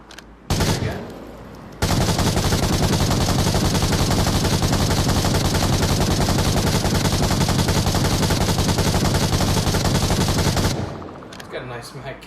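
Sustained automatic fire from a MARSOC rifle in the VR shooter Onward, one long unbroken burst of about nine seconds, loud and close, with a short shot and handling clatter before it.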